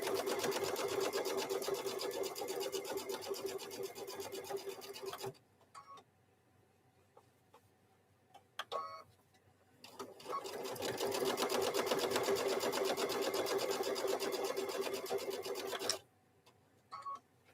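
A sewing machine stitches a microwave bowl koozie in two long bursts of rapid, steady whirring, separated by a few seconds of near quiet with brief clicks and handling sounds, fairly faint and close.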